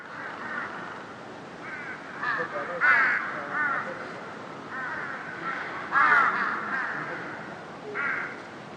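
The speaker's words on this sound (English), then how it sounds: "My favorite one out of these is the loud crows." A flock of crows cawing loudly together in an outdoor ambience recording, repeated harsh caws in irregular bursts, some near and some farther off, over a steady outdoor background.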